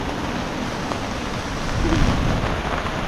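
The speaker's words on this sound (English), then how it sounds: "like we're in the middle of a storm" A heavy storm lashes Stradbroke Island, with sideways rain and wind making a dense, constant roar close by and a low rumble swelling midway, with no voices.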